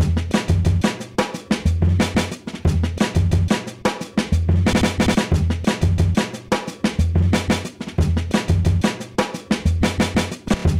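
A chopped, stuttering drum beat with punchy kicks and snappy hits in an irregular, glitchy rhythm, loud and alone without any voices.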